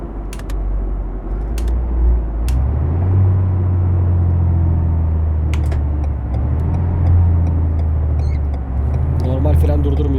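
A Ford F-Max truck engine in Euro Truck Simulator 2, driving snowy Nordic roads, hums as a steady, deep diesel drone that slowly rises and falls in pitch, with occasional sharp ticks and clicks on top.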